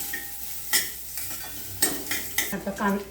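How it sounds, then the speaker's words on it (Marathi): Onions sautéing in a pan, a soft sizzle broken by several sharp scrapes and clinks of a spoon stirring against the metal, close and intermittent over about three seconds. "आता कांदा छान परतून झालेला आहे"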